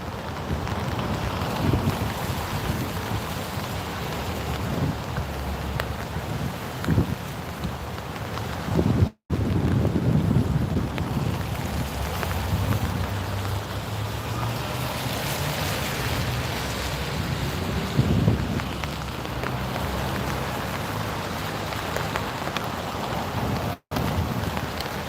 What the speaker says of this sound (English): you can hear the rain like pitter-pattering on the umbrella